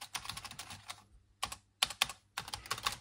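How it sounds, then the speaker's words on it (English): Key clicks from a vintage Robik home computer keyboard come in quick, close typing bursts separated by short pauses, crisp and fairly quiet, with no voices. "I was trying to figure out where the little key clicking noise was coming from."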